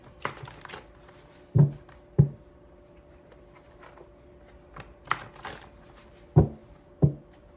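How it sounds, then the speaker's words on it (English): A deck of cards being shuffled, heard as a few separate riffle bursts, each a short sharp flutter of card edges, spaced with quiet gaps between, close and fairly quiet in an otherwise still room. "let's get 3 clean shuffles"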